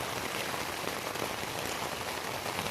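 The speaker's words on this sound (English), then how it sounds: "It's just rain in my ALPS Mountaineering Lynx 2-person tent." Steady, dense patter of rain drumming on an ALPS Mountaineering Lynx 2-person tent during morning thunderstorms, a continuous close hiss with no voices.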